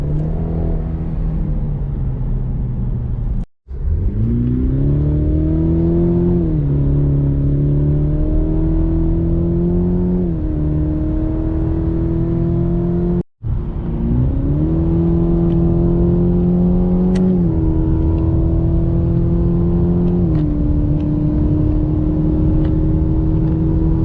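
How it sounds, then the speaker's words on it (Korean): A Cadillac CT5 in sport mode accelerating hard on a country road: loud engine revs climbing through the gears, with two brief cuts in the power at the shifts, heard from inside the car. "그리고 이번엔 스포츠 모드로 바꿔놓고 이렇게 쫙 국도에서 이제 밟아주는 겁니다."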